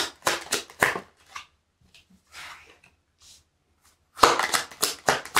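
Oracle cards being shuffled and drawn by hand, with bursts of brisk, riffling card shuffling at the start and end and quieter handling rustles in between, close and clear with no talk.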